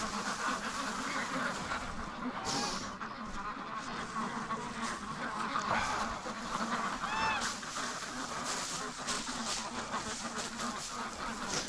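Free-range ducks quacking and honking during winter chores in extreme weather, repeated nasal calls from several birds nearby over a steady background.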